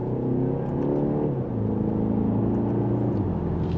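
A 2025 BMW X1 xDrive28i SUV accelerates in second gear on the road, its engine rising in a smooth steady drone with a shift-like dip partway through, heard from inside the cabin under road rumble.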